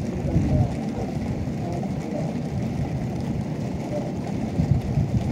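Hailstorm during a flash flood, a dense, steady rumbling clatter and roar of falling hail and rushing weather that stays loud throughout, with no talking.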